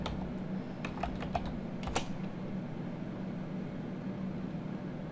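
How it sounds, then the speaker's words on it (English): Typing on a computer keyboard to enter a server address, a quick burst of light key clicks in the first two seconds over a steady low electrical hum, then only the hum. "type in our server's address"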